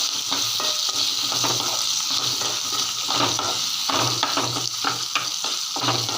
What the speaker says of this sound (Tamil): இந்த வெங்காயம் பூண்டு ரெண்டையும் ஒன்றா போட்டுக்கலாம் இதுங்க ரெண்டும் நல்லாமே எண்ணெயில் வதங்கட்டும்